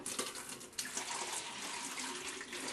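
Ceresit ST17 primer is poured into a container in a steady liquid stream, close and continuous with small splashy surges, with no talking over it.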